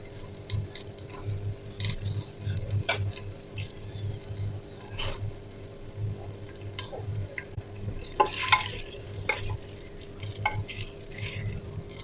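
Onions fry in a small amount of oil in a pan while cooking chana dal, a soft, steady sizzle with intermittent stirring scrapes and clicks of a spoon against the pan, close and fairly quiet.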